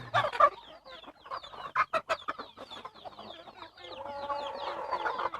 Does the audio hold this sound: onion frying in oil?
no